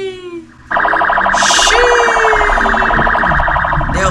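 A loud, wailing police siren starts abruptly and cycles rapidly up and down, close by, with a brief higher burst partway through.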